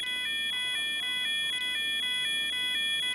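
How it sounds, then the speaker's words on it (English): An in-game fire alarm in a GTA 5 mod sounds steadily, a repeating electronic two-tone warble pulsing about four times a second, constant in level throughout. "While the alarms are silenced, if a pull station is pulled, the alarm will reactivate"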